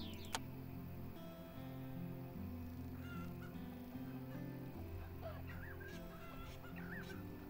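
Chickens cluck in the farm-management video game Farm Manager 2018, with scattered short bird calls sitting over steady in-game music and ambience.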